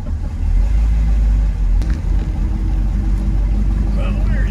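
A 1963 split-window Corvette with a fuel-injected engine pulls away, its loud, steady low exhaust rumble filling the cabin throughout with little change in pitch.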